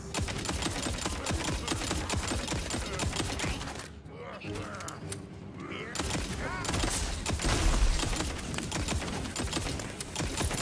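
Rapid gunfire in the fantasy shooter Tiny Tina's Wonderlands, dense bursts of shots and clattering effects running almost continuously, loud and close, with a short quieter stretch midway and game voices mixed in.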